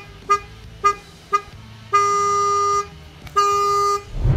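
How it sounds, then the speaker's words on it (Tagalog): A faulty Mitsuba Alpha 2 horn on a Toyota Corolla, with only one horn working, gives three short honks, then a long blast, then another sustained blast, loud and close with no voices. "ayusin namin yung busina ng Corolla ng kapatid ko"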